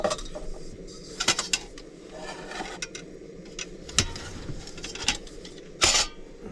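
A big spoon clinks and scrapes inside a cooking pot of spicy ghost pepper soup at a cold-weather truck campsite, with several sharp metallic knocks spaced irregularly over a steady low background rumble.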